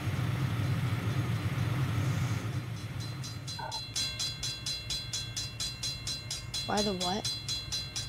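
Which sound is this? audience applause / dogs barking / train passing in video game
train passing in video game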